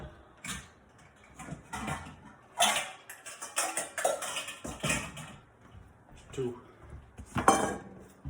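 Dishes and a bowl clatter and clink in a home kitchen while an omelet with turkey bacon is prepared, bursts of ceramic knocks and cutlery rattles coming in irregular clusters, close and fairly loud, with brief speech in between.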